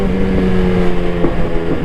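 A Yamaha MT-10 naked motorcycle roars loud and close under hard throttle, with a brief dip in the engine note as it snaps through a quick upshift.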